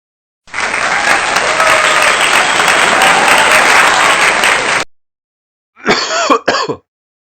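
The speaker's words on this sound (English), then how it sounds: "Clap." Dense, continuous applause from many hands fills about four seconds, loud and steady, then stops abruptly; after a pause a few short, throaty coughs follow.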